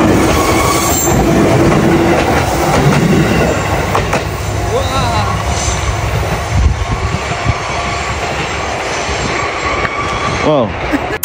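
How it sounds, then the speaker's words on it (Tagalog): A train rolls past on railway tracks near Mt Fuji, a loud, continuous rumble of wheels and cars with brief squeals close by, while faint voices talk in the background. "Bago yung train. Tingnan natin yung train."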